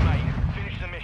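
A short burst of heavy gunfire from a shooter video game, dense and booming over about a second with no pause between shots.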